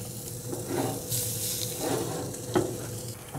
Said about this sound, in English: I'm gonna hit it with a little bit of duck fat so our chicken doesn't stick.